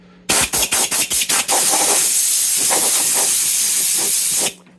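Compressed air from a blowgun cleans a Kiesel EverTune seven-string guitar, starting with six short sharp bursts and then settling into one long, loud, steady hiss that cuts off abruptly.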